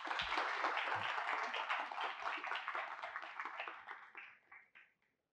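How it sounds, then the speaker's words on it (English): An audience at the MIT Bitcoin Expo 2024 applauds Emad and Manish, a dense burst of many hands clapping, moderately distant, that swells and then thins out and fades to silence over several seconds. "can we get a round of applause for Emad and Manish?"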